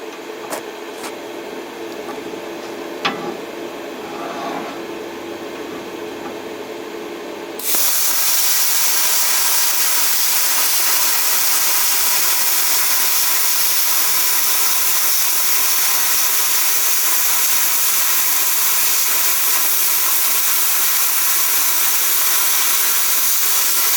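A plasma cutter slicing quarter-inch metal gives off a loud, steady, rushing hiss that starts abruptly after a quieter stretch of ambient noise and a click, then runs continuously without a break.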